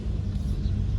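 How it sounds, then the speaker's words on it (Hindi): A car with its window open rolls along, a steady low road rumble and wind wash filling the cabin, close and continuous with no talk. "अब हम शीशा खोल के गाड़ी चला रहे हैं"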